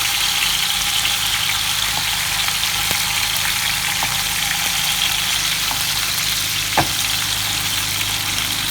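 Restaurant-style tandoori chicken frying in hot oil gives a steady, dense sizzle that holds at an even level throughout, with a few faint clinks and pops near the end, close by and without talk.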